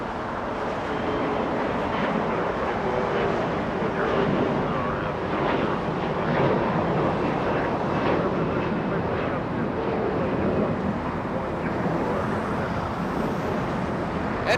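A SkyWest CRJ 700 regional jet at Los Angeles International Airport, bound for Denver, gives a steady, loud, broadband engine roar that holds evenly throughout with no talk over it.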